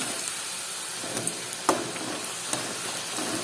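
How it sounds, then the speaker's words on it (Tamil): Potato finger chips frying in hot oil give off a steady, fairly quiet sizzle with scattered small pops and crackles, no talking. "இப்போ எண்ணெய் நல்லா சூடாயிட்டு ஒன்று ஒன்றா போட்டுடலாம்"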